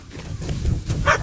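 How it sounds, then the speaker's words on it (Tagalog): Dogs on a rural Philippine farm at night, a few barks and yips rising over steady low rumble and outdoor noise, with one sharper bark near the end. "Yan ang aso."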